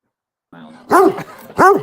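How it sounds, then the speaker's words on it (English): Two sharp dog barks close by, spaced about half a second apart, following a softer whine or vocal murmur. "What are you barking?"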